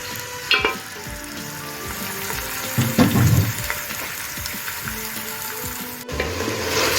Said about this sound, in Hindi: ऑयल गर्म होने के बाद इसमें हम कर देंगे ऐड मीट